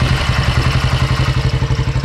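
A 1960 BSA Gold Star motorcycle engine fires on its own and settles into a loud, close idle, with a steady lumpy single-cylinder thump throughout.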